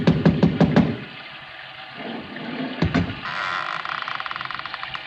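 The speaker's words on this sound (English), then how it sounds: "I lifted the bronze idol and rapped on the door with it" Five quick loud raps of a bronze idol against a door open the scene, then a short pause, two more knocks and a rising wash of rain or water noise.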